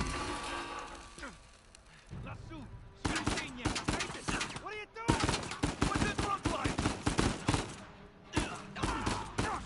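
Rapid bursts of game gunfire from Uncharted 4, repeated volleys and single shots crackling loudly across most of the stretch, with voices talking between and over the shooting.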